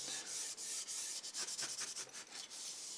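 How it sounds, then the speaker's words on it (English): A Scotch-Brite pad rubs over the satin finish of a guitar body, producing close, rhythmic scratchy strokes in quick succession. "I just had to hit it with the Scotch-Brite a little bit"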